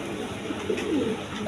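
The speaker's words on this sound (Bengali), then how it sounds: "এখানে একটা মাদি কবুতর আপনার মিলি কালারের ঘররা কবুতর" Domestic pigeons, including a Mili-coloured Ghorra hen, give soft low coos, faint and brief against a busy market background.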